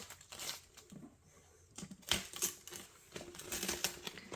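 Tape peels off a resin mould in short crackling, tearing bursts, close and fairly quiet, with brief pauses between pulls.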